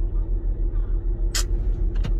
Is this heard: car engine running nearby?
yes